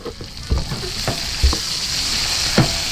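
Steady broadband hiss of chicken sizzling in a hot pan, with occasional clinks and scrapes of stirring on top.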